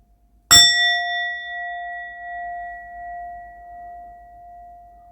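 A single strike on a meditation bell rings out clear and close, then holds a pure sustained tone that decays gradually over several seconds with nothing else heard.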